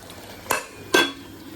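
Two sharp metallic clinks of a utensil against a pot while cooking chicken biryani, spaced about half a second apart, close and clear over a quiet kitchen background.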